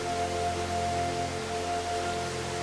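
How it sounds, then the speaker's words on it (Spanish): Steady rushing water from the Trevi Fountain, a dense continuous wash of splashing with faint tonal hum beneath, heard alone. "El ruido de las aguas"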